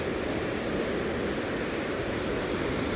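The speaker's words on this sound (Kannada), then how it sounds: "ನೋಡಿ ಬರಚುಕ್ಕಿ ಜಲಪಾತ ಎಷ್ಟು ಅದ್ಭುತವಾಗಿ ಕಣ್ಣುಗೊಳಿಸುತ್ತಿದೆ" Barachukki waterfall's water thundering down in a constant, dense roar, heard up close and loud with no voices over it.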